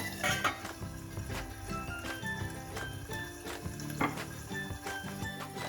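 Lima beans fry in oil over a high flame, sizzling steadily while metal clanks and clinks sound close by as a lid is set onto the pan.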